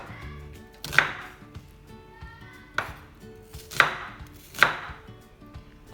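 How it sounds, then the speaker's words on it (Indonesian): A knife cuts through an onion (bawang bombay) on a cutting board, four sharp, close chopping thuds spaced irregularly over a quiet background. "Untuk bawang bombaynya bisa dipotong lebar-lebar seperti ini, bisa juga kotak-kotak."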